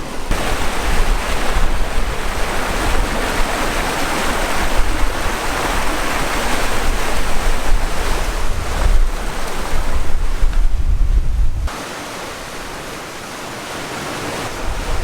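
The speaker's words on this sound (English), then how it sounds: "A lot of water flowing off the bank and into the deep ocean." Strong ocean water pouring off a bank into deep sea, with waves and heavy wind buffeting the microphone in a loud, steady roar that eases slightly near the end.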